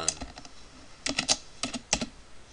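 Short bursts of crisp key clicks as a file name is typed on a computer keyboard, close and clear, with brief pauses between the groups of keystrokes.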